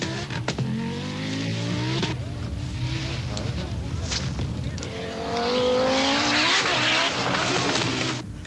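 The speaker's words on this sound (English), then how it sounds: "the powerful Quattro Sport looks quite a handful" An Audi Quattro Sport rally car blasts along a fast, bumpy special stage at the 1985 Circuit of Ireland, its engine rising and falling through gear changes, loud and close, under a commentator's talk.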